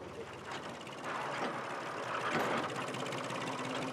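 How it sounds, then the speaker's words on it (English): A low tractor engine rumbles steadily at a moderate distance, a continuous mechanical drone that grows slightly louder partway through. "As soon as they hear the tractor's engine, they gather at the gate."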